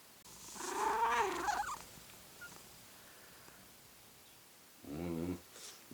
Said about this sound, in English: I didn't think you were literally gonna throw a cat into the shot.